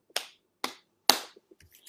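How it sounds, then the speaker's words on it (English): Three sharp, well-spaced hand claps ring out alone in a quiet room, each with a short decay, followed by a few faint taps. "I'm going to clap my hands."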